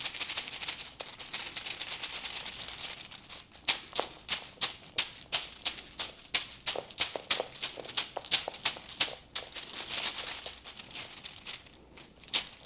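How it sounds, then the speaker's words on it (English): Dice clatter and rattle inside a cloth dice bag as it is shaken and turned over, a close, steady run of soft clicking bursts with no voices. "Rattle it around a little bit."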